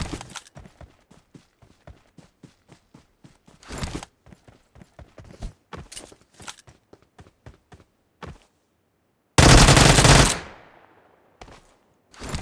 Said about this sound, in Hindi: तो पीछे से मेरे पे फायरिंग होती है।